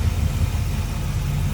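A 1964 Chevrolet El Camino Custom V8 with MSD ignition idles smoothly nearby, a steady low rumble with an even pulsing beat and no voices.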